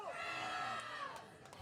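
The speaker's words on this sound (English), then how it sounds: "You can hear the Spruce cheers going off." Crowd of spectators at an under-19 women's rugby championship match in St. John's, cheering and shouting in a brief continuous swell, moderately loud, mixed with voices.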